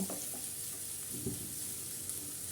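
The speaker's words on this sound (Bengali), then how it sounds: "তো তার আগে ভালো করে এটি ভেজে নিই" Chopped onions frying in oil in a pan for chicken curry, a steady soft sizzle with faint stirring scrapes, close and alone.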